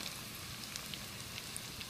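Onions, mushrooms and Polish sausage frying in a pan with oil and butter give a steady, close sizzle with faint crackling pops throughout.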